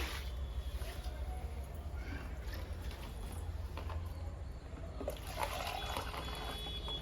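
Homemade leaf-based liquid fertiliser is poured into the centre of bushy indoor potted plants, giving a soft, steady watery trickle at moderate level with faint background noise.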